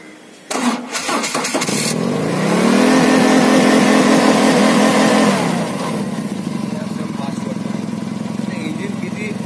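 A high-power fire pump engine cranks and starts, catching after a brief starter burst and settling into a loud, steady close-up running drone that rises in pitch and then eases to a constant idle.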